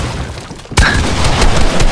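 Gunfire in the video game Fortnite, a sudden loud burst starting partway in, followed by continuous dense game noise with repeated sharp hits.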